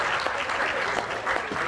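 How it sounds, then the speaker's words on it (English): A charity event audience claps for the caterers in a brief, even burst of applause with no voices over it. "Big round of applause to them"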